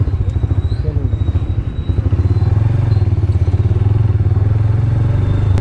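Motorcycle ridden along a road in Azad Kashmir, Pakistan, its engine chugging in a loud, close, steady pulsing rhythm with some rattling, and no one speaking.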